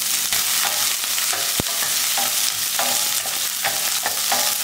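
Steady sizzle of onions and garlic sautéing in a pan, with occasional stirring scrapes and clicks, close and continuous, no voices.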